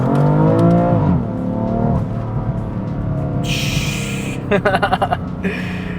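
A BMW M340i fitted with an M Performance exhaust pulls away under light throttle, its engine note rising in pitch up close, then a rapid burst of crackling pops follows as the revs drop.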